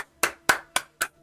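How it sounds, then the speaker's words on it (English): Four sharp, evenly spaced claps ring out in a quick steady rhythm, close and loud, like a brief round of seal-style applause. "Good old seal clap."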